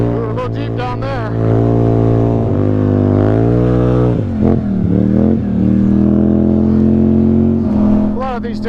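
Can-Am Scrambler 1000 side-by-side pushing through a deep snowy ditch, its engine droning steadily up close with pitch rising and falling as the throttle changes.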